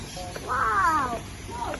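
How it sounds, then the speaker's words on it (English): A bird calling at the KL bird park, a drawn-out harsh, wavering cry with shorter calls before and after, fairly close over faint ambient noise. "We already hear the bird sound."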